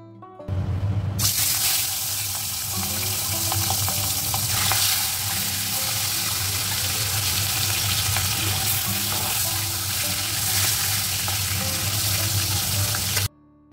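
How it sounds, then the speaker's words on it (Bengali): Bengali fish curry boiling in a pan with fish pieces added, a loud, close, continuous sizzling and bubbling that starts abruptly and runs steadily before cutting off sharply. "এদিকে মাছের ঝোলও ফুটে গেছে, মাছটা আগে দিয়ে দিলাম"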